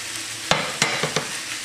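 Sausage and tomatoes sizzle steadily in a frying pan, with four or five sharp clacks of a utensil knocking against the pan standing out over a constant frying hiss.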